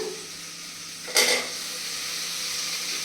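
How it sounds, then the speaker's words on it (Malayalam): Cubes of elephant foot yam saute in an oil-filled pan for sambar, making a soft continuous sizzle; a sharp stirring scrape rises about a second in, then the frying settles back to a steady hiss. "ചേനയ്ക്ക് നല്ല വേവുള്ളത് കൊണ്ട് ചേനയെ ഒന്ന് ഇട്ട് വഴറ്റി"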